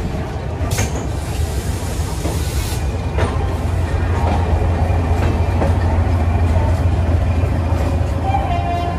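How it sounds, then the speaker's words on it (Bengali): Poorva Express 12381 train pulling away from the station, a steady rumbling roll of wheels and carriage noise with occasional clanks and squeals, continuous and fairly loud from inside the coach. "তো 8:17 আমাদের ট্রেন ছেড়ে দিল"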